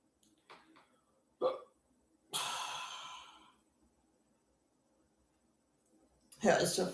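Several hiccups from one person, sharp and close, spaced irregularly with quiet gaps, plus a long breathy sigh.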